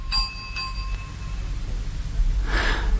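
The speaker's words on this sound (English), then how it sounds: "rang the bell." A porter rings a door bell in a cartoon, striking two bright ringing dings close together that fade into room tone, followed by a soft breathy noise.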